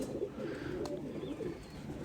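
A single pigeon, a stray bird with fine delicate feet, coos softly at close range, a few low burbling calls in a quiet space.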